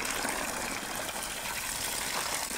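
A garden hose squirts water into a pet turkey's water pool outdoors, making a steady, close, hissing gush that runs unbroken throughout.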